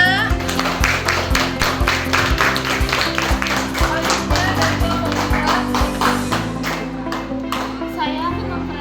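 Classroom applause for a student at a school lesson: rapid rhythmic clapping from many children fills the room at steady loudness, with children's voices mixed in throughout.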